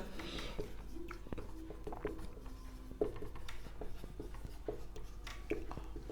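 A teacher writes on a board during a maths lesson on real functions: faint, intermittent scratchy strokes and small taps in a quiet room, with scattered light knocks.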